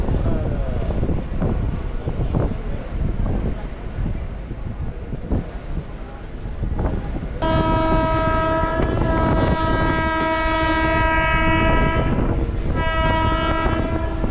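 A train at Pattaravakkam railway station, a suburban stop near Ambattur: steady rumbling rail noise with wind buffeting, then a loud sustained multi-tone horn blast that sounds in long bursts near the end.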